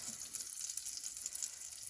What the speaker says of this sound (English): we've got some butter in the frying pan, and now we're going to pop a ladle full in